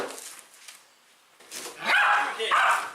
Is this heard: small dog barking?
yes